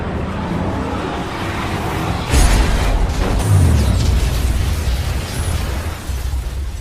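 A heavy boom erupts over a steady rumbling background, followed by sustained low roaring and crackling debris that slowly fades.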